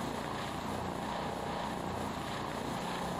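Welsh Air Ambulance helicopter in a flight simulator game, a constant loud rotor and engine drone with no voices.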